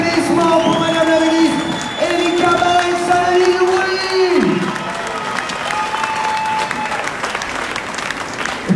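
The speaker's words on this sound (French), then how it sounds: "Un tonnerre d'applaudissements" A rally crowd in Saint-Denis applauding and cheering, loud sustained clapping with whoops and shouts, while a voice talks over it through the middle.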